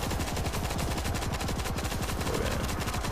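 A machine gun in the zombie shooter World War Z fires a sustained, rapid, evenly pulsing burst, loud and close throughout with no speech.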